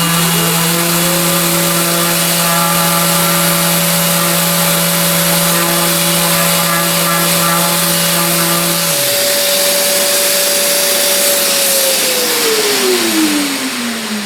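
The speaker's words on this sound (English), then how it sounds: "I want to sand it fairly aggressively, or more aggressively, to get all these overfilled filler off before I recoat it" A power sander works aggressively over a wooden Japanese maze box puzzle, taking off overfilled filler. Its steady motor whine holds for about nine seconds, then shifts and winds down, with no talking.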